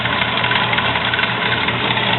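A JET 7x12 metal-cutting band saw with coolant and hydraulic down feed runs after being powered on, a steady close motor hum and rumble with a faint knocking texture throughout.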